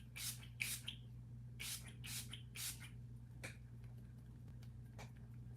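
Makeup setting spray misted in several quick bursts, a cluster of short hissing sprays close by followed by a couple of fainter spritzes, with quiet room hum between.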